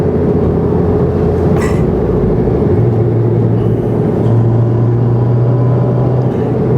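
A Honda Civic Si FA5 fitted with an A'PEXi WS2 Noir exhaust drones inside the cabin while driving, a steady low hum that deepens and holds under constant road noise.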